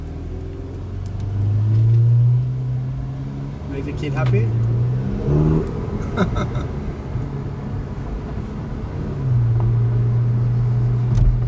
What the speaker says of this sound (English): it's a nice feeling driving a 488 in Maranello